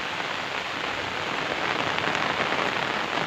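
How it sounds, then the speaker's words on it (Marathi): Heavy monsoon rain pours steadily in the Konkan countryside, washing soil off a farm road; a dense, even hiss with no let-up runs throughout, loud and close. "पाऊस एकदम मुसळधारच पडतो"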